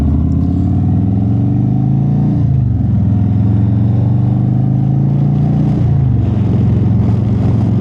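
A Harley-Davidson Street Glide motorcycle on the road, its deep engine droning loud and steady with rising and falling pitch as it shifts and accelerates, under constant wind rush.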